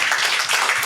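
Audience applause after a talk on peer support and disability advocacy, a brief, steady wash of many hands clapping.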